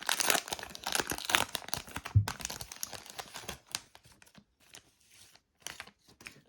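Plastic wrapper of a Pokémon HeartGold SoulSilver booster pack being torn and crinkled open by hand, a busy stretch of close crackling and ripping that thins into sparse rustles and pauses.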